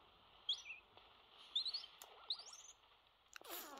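A bird cry in Pokemon Scarlet: a few short, high chirps at separate moments over a quiet ambient bed, then a brief rustling flutter near the end.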